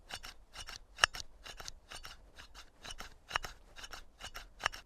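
The slide of a SIG Sauer P320 9mm P.A.K. blank gun is racked back and forth repeatedly, giving a rhythmic series of dry metallic scraping strokes, close and unaccompanied.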